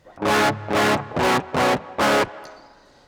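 Five loud, gritty electric guitar chords through a Legitimate Beef overdrive pedal strike in an even rhythm, each held briefly, then ring out and fade.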